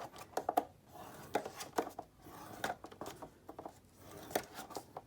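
Purple paper is scored along a ruler while making paper teacups: quiet, close, irregular short scraping strokes and light taps, with brief pauses between them and no talking.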